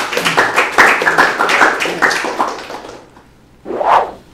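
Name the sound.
applause, clapping hands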